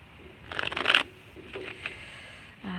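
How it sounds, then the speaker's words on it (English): Tarot cards being shuffled by hand: a loud, rustling riffle burst, then a few shorter, softer shuffling flicks and taps, close up with no talking. "what I'm going to be doing right now is shuffling these cards"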